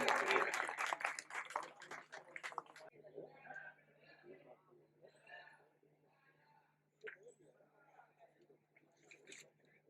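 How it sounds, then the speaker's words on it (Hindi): A burst of loud audience applause in the first few seconds, fading out into quieter room murmur and scattered voices. "जोरदार तालियां"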